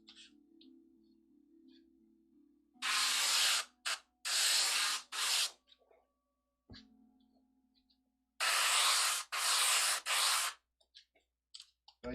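An airbrush sprays in two bursts of steady hissing: first a cluster of three or four short pulses, then after a pause a second group of three, with quiet compressor-like hum and small clicks between sprays.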